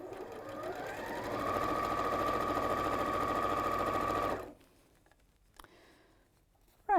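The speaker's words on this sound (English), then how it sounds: "that shorter end over twice and sew" A sewing machine top stitches a folded fabric end, humming steadily and loud up close for several seconds before stopping abruptly, leaving faint handling clicks in near silence.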